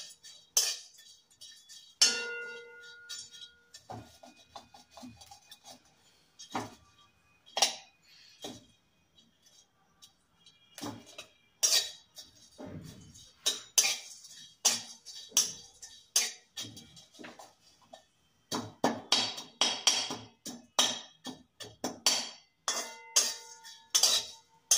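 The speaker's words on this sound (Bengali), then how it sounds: "জয়িত্রীটাকে একটু রোস্ট করে নিতে হবে।" Dried mace dry-roasted in a pan, heard as scattered light clinks, taps and rattles of metal and spice against the pan, irregular and close, with quiet gaps between bursts.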